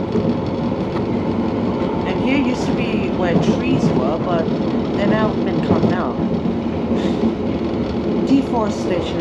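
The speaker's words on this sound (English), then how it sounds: "the Cockfosters trains will weave around the outskirts of the depot and through the countryside" A Piccadilly Line underground train rolls near Cockfosters with a steady rumble and rhythmic clickety-clack over the rails, while a voice talks over it throughout.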